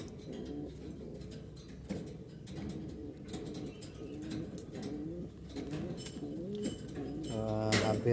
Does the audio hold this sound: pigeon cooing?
yes